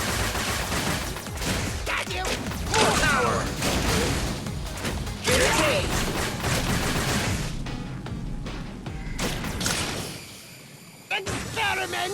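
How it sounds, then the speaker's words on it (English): Mega Buster fire rattles in a Mega Man 11 boss fight. Dense, rapid, loud blasts sit among game music and effects almost without a break, then a short lull comes before the action picks up again. "Just shoot away and he should go down in about a minute or so."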